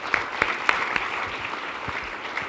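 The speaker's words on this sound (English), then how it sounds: "let's give him a round of applause for that" Brief applause from an audience at a San Francisco business awards event, scattered sharp claps standing out over a soft bed of crowd noise, fairly near and moderately loud.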